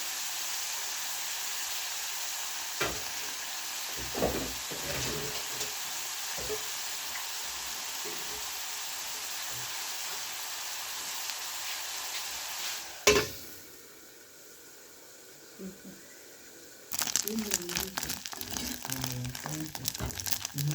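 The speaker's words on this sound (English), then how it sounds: "Cover, let it deep fry." Omena fish deep-fry in oil in a covered pan, a soft steady sizzle with occasional clinks and stirring knocks, then a sharper louder crackling burst near the end.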